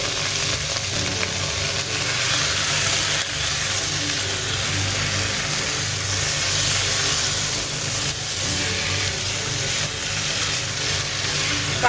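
Beef pieces hit dark brown masala for a Kerala beef roast and sizzle loudly and steadily in hot oil, a dense, even frying hiss with no voices.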